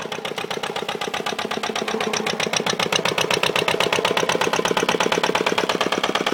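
A Rough Rider dumper's small engine runs steadily while the machine is driven, giving a close, loud, rapid chugging put-put with an even rhythm that picks up slightly in pace.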